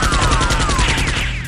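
Rapid bursts of gunfire in a staged Nerf gun battle, loud, fast repeated cracks in a dense rattling volley with a descending whistle-like tone threading through.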